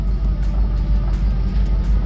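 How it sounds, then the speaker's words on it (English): A Dodge W250 plow truck engine idles low and rough, a loud, close, steady rumble with a faint rhythmic pulsing and no talk over it. "That's at idle though. It's idling kind of low."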